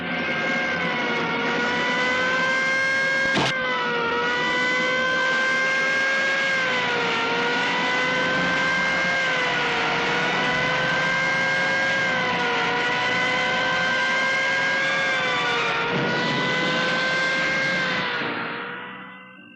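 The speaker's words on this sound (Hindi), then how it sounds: "गाड़ी स्टार्ट करो, चलो।" An engine runs steadily and loudly for about twenty seconds, its pitch wavering as it revs, with a sharp knock early on, before fading out at the end.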